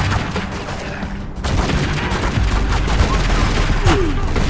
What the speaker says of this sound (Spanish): qué susto me ha pegado el disparo